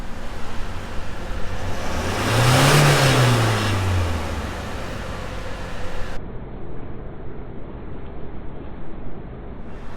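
A Toyota Hilux engine revs during an emission test, rising to a loud peak and falling back over a couple of seconds, then idles under constant broadband noise.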